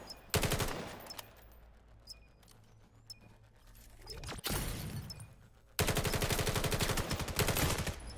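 Gunfire in the VR shooter game VAIL during a one-on-one retake, with bursts of rapid automatic shots at the start and a long sustained volley at the end, loud and close with brief quieter gaps between.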